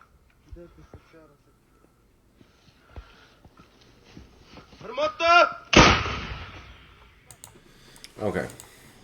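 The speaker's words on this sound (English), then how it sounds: "This is an artillery." A war video plays artillery fire, with sporadic muffled booms and one loud sharp blast followed by a later burst, mixed with clicking and faint voices in the background.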